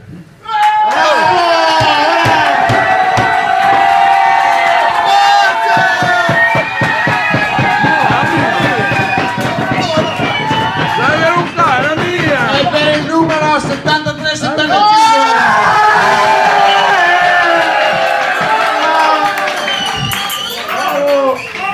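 Audience at a dinner event breaking into loud applause and cheering, a dense wash of clapping and shouts that swells and carries on throughout, with a voice speaking through it.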